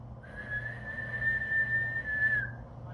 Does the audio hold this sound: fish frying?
no